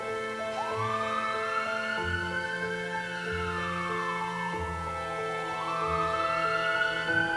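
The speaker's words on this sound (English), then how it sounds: "the sound of ambulances appear in the distance" An ambulance siren wails in slow rising and falling sweeps, moderately loud, over a sustained steady tonal backdrop that continues throughout with no speech.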